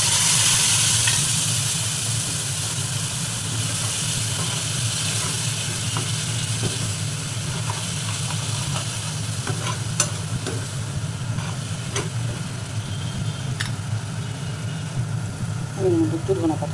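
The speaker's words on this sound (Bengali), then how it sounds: "আমি এর মধ্যে মশলাটা দিয়ে দিচ্ছি।" Spices go into a besan curry frying in a pan, with a steady loud sizzle and stirring scrapes running throughout, plus occasional faint clicks.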